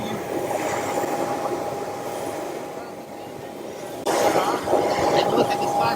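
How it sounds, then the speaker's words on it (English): Auxiliary power unit running on a Boeing 737-800 freighter, a steady droning whine with a constant tone, loud and continuous throughout, growing slightly louder near the end while a voice talks over it. "Right now, what you're hearing is the auxiliary power unit."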